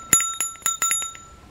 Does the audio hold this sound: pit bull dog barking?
no